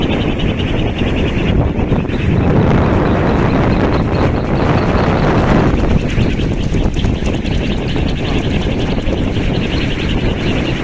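A giant kolecer, a traditional wind-driven propeller toy nearly 7 meters across, whirs continuously in strong wind amid steady loud rushing wind noise, with no talk heard.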